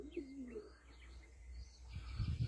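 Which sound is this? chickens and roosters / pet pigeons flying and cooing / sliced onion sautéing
pet pigeons flying and cooing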